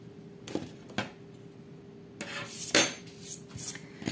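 Scissors cutting a pipe cleaner to length, several short metallic snips and clicks, first two separate cuts and then a quicker cluster, close and quiet with no talk.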